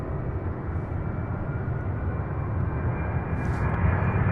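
An airplane rotates on takeoff at Louisville airport, a continuous broadband jet roar building slightly louder over a few seconds, heard alone without voices.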